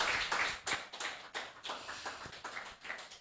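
A small group claps by hand at a Quebec music session, with distinct individual slaps in an uneven, moderately close patter. There is no crowd roar behind the claps.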